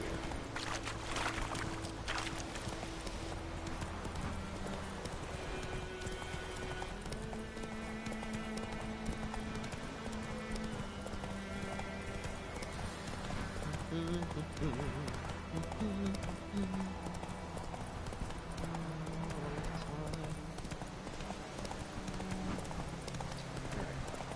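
Roach the horse gallops in The Witcher 3, hooves clip-clopping in a steady rapid rhythm throughout under game music, with someone talking over it.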